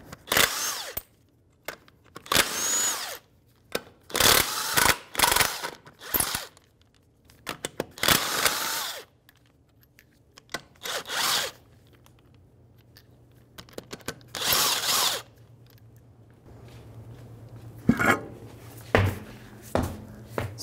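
A power tool spins a 19 mm socket to take off a wheel on a 1996-2006 Jeep Wrangler, with repeated loud bursts of impact-style rattling and whirring separated by short pauses, close to the microphone.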